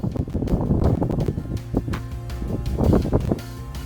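Strong, gusty wind of around 30 mph roars and buffets the microphone outdoors on an exceptionally windy day, with fluctuating bursts and no voices.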